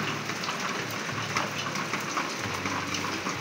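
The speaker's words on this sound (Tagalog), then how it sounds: "hintayin po muna namin humupa yung ulan" Steady rain pours down outdoors in a town, a continuous hissing wash of drops on surfaces that stays even throughout, with no voices.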